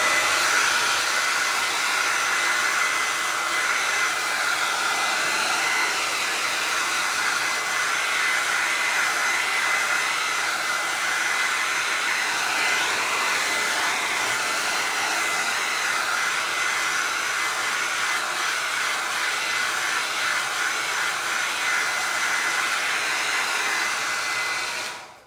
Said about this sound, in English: I'm gonna blow dry again.